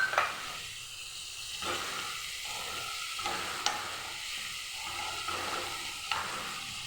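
Spice paste sizzles and hisses steadily in a frying pan after a little water goes in, with soft stirring scrapes and a few light clinks over the continuous frying.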